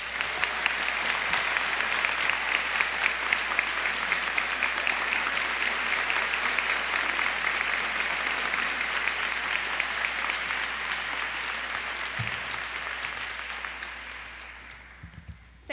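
An audience gives sustained, dense applause as Lieutenant Commander Wall is welcomed at a Joining Forces event with Michelle Obama and Jill Biden at Penn Nursing; the clapping stays steady and full before tapering off at the end.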